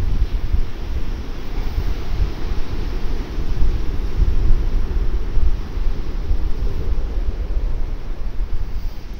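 Wind and waves at the seaside, a loud continuous low rumble of surf and gusting wind buffeting the microphone, steady throughout with no voices.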